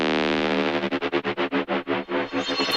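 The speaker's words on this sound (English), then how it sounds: "it has this crazy sub drop" An electronic track plays with a heavily processed, distorted mid-range texture, then pulses into a rhythmic sequence of swelling, pumping hits around the sub drop, loud and even throughout with no voices.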